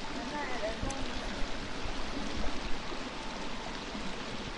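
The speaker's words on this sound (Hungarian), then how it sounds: "ma olyan rohadt hangos itt a víz, hogy a gondolataimat nem hallom" Loud rushing water in The Forest, a steady broadband roar of a stream or falls filling the space throughout, close and constant.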